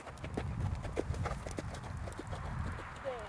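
Horse cantering during a riding lesson, with rhythmic hoof clip-clop steady throughout at moderate distance, under low broadband arena noise and an instructor's occasional voice.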